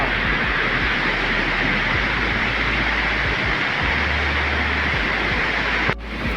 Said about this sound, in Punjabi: ਪਾਣੀ ਦੀ ਛੱਲਾ ਬੁਛਾੜ ਦੇਖ ਲਓ ਜੀ ਕਿਵੇਂ ਵੱਜ ਰਹੀ ਆ